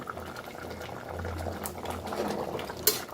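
Lentils simmer in an open pot on a home stove, giving a faint, steady bubbling boil with a small click near the end.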